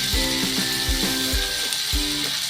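Taro stolons fry with shrimp in a pan, a loud close sizzle broken by a series of rhythmic scraping stirs, roughly one every half second.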